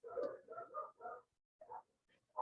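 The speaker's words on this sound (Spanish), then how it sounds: "Perdón los ruidos de los perros, eso no lo puedo manejar" Dogs barking nearby: a quick run of four or five sharp barks, a pause, then a few more scattered barks, with no one talking over them.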